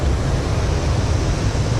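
Water pouring over a weir waterfall at the head of a stream, a dense, continuous roaring rush heard up close with no let-up.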